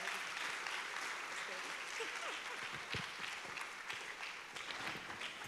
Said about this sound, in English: Ladies and gentlemen, with a resounding clap, shall we please welcome the host of Practical Christianity, Reverend Albert Okran.